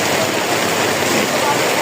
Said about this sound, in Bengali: বৃষ্টিটা স্বাভাবিক আছে, তুফান নেই, বাতাস নেই